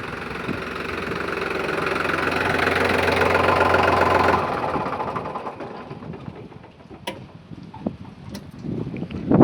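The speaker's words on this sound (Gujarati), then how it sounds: "તો પહેલાં ટ્રેક્ટર બંધ કરી દેવી આપણે." A farm tractor engine idles with a steady low rumble for about four seconds, then shuts off, leaving faint outdoor ambience with light rain and scattered small knocks.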